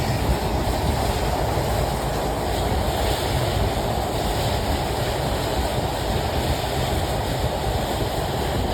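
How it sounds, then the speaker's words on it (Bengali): Sundarban Express intercity train rounding a curve at night on a ballastless track near the Padma Bridge, a steady loud rumble and rushing roar of wheels and carriages with no break throughout. "অসাধারণ এক রেল কার্ভ নিয়েছে আমাদের আন্তনগর সুন্দরবন এক্সপ্রেস"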